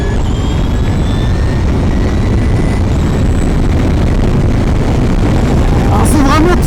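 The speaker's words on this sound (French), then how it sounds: "on entend quand même un son très caractéristique du moteur électrique, sorte de son très continu" Electric race car motor produces a continuous, even whine with rising tones, loud and unbroken throughout, with a sharper pass near the end.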